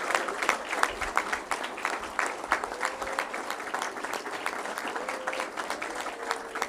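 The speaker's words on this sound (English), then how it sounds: "please join me in giving all of our National Math Stars a well-deserved round of applause" An audience at a school board meeting applauds the National Math Stars with steady, dense clapping that continues evenly throughout at a moderate distance, with a few voices underneath.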